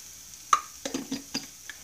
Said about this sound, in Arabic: صافي غادي نكمل لهم التشحيره حتى يهبطوا مزيان